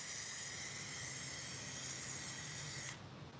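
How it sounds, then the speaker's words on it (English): A paint sprayer hisses out a thin, steady mist while a rolling tray is painted, one continuous loud spray that cuts off sharply near the end. "This sprayer also allows for a very thin mist to come out."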